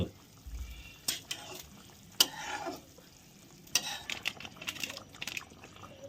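Rohu fish curry bubbling in a pan, with a soft simmering sizzle under sharp metallic scrapes and taps of stirring, close and uneven.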